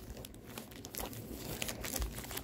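Foil trading card booster packs from a 25th Anniversary Rarity Collection box crinkle and rustle steadily as they are handled and shuffled together, close and fairly soft, with no talking.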